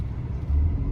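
A 1999 BMW E39 528i drives along with a steady low rumble of engine and road noise from inside the car, a brief swell in the deep drone and no voices.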